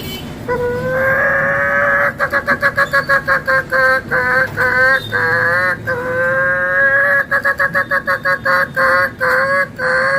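A man imitates a hen with his voice, producing a long run of loud, close, rhythmic clucking calls, quick repeated pulses between a few longer drawn-out tones.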